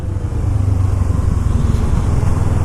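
A 2006 Kawasaki Ninja 650 motorcycle on the move gives a steady, loud engine drone blended with rushing wind noise, unbroken and with no voices.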